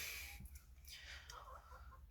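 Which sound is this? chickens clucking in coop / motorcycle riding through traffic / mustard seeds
chickens clucking in coop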